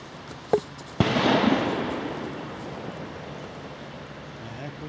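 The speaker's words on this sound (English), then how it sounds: "Somebody just fired a gunshot over there." A single sharp gunshot cracks in a zombie survival video game, preceded by a smaller knock, then a long rolling echo that fades away over quiet background.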